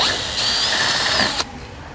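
A power drill with a 10mm socket backs off a jack nut on a 2021 Hyundai i30N hatch, giving a close, loud, continuous whine that shifts pitch slightly, then stops abruptly.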